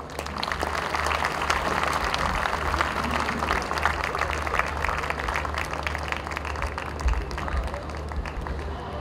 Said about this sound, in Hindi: एक बार फिर से उनके लिए जोरदार तालियां